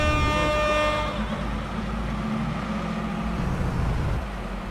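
Horn of a loaded Mercedes-Benz 1620 truck sounding as a loud, steady multi-tone blast for about a second, then cutting off, leaving the heavy engine rumbling on alone.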